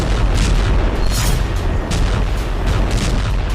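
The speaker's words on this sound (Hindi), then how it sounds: "इसलिए किम जोंग ने आर्टिलरी का अभ्यास करवा दिया।" North Korean artillery fire booms in a loud, dense barrage, heavy blasts overlapping with continuous rumbling and no pauses between them.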